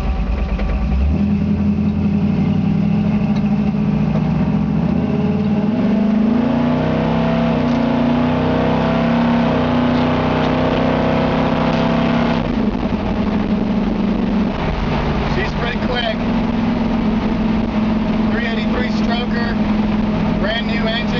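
A 1956 Chevy 3100 pickup truck's new high-performance engine runs steadily and then revs through a couple of smooth automatic gear changes, the pitch dropping and climbing again, loud and close.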